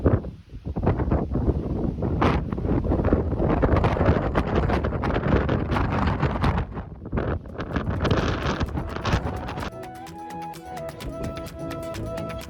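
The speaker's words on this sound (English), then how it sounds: "It's extremely windy and gusty now we're on the ridge." Strong gusty wind buffets the microphone on an exposed mountain ridge of the Isle of Skye, roaring loudly and continuously for most of the stretch before easing into a steadier, quieter blow near the end.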